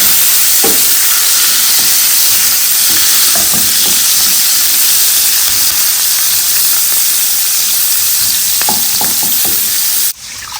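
Shredded onion hits a hot pan and sizzles loudly and steadily, a dense frying hiss with a few small crackles and pops, cutting off abruptly near the end.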